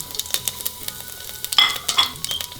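Cumin seeds hit hot oil in a pot and crackle, giving a scatter of sharp little pops and clicks at close range, with a brighter burst of sizzle partway through.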